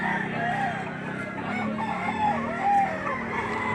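A rooster crows at a livestock auction market in Lipa, Philippines, amid a busy, noisy background of chatter and farmyard commotion, with a couple of shrill calls standing out.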